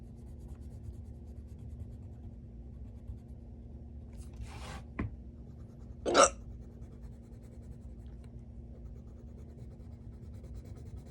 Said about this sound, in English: Crazy hiccups